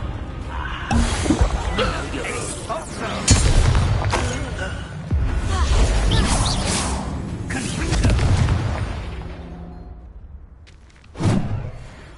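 Confringo blasting curse explosions in the Hogwarts video game, a series of loud booms, thuds and crashing bursts in irregular rhythm, with a final sharp blast near the end after a brief lull.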